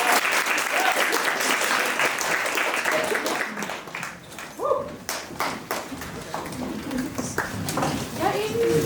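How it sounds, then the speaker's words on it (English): Applause from a showcase audience welcoming actresses to the stage, a sustained burst of clapping that thins slightly midway then swells again, with scattered voices and cheers mixed in. "please join us in giving a round of applause and welcoming our actresses"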